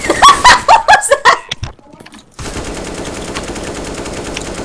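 Loud, close CS:GO gunshots fire in a quick run of sharp reports, then stop abruptly before a steady in-game background hum takes over.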